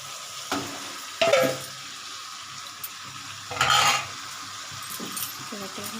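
Chicken sizzling in a hot pan for a Bengali chicken curry, with a steady frying hiss and two louder bursts of scraping and stirring at close range, plus faint clinks of a utensil.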